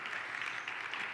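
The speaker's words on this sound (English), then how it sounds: "applaud yourselves for still being here" Steady audience applause at a public health summit on pandemics, a continuous wash of clapping from a crowd, heard alone at moderate distance without speech.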